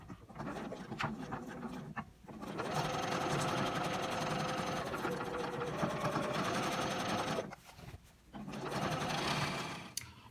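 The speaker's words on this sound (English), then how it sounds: "So the next step is to take it back to the machine one last time. We're going to do a top stitch all the way around this bag" A sewing machine runs steadily while top stitching around a lined canvas drop-cloth tote bag, with a close, continuous whir that stops briefly twice before resuming.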